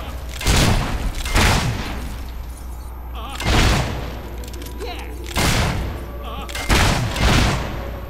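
Gunfire in the video game Fable 3 as enemies are shot: four loud, booming shot bursts spaced a second or more apart, the first two close together, over a low steady game ambience.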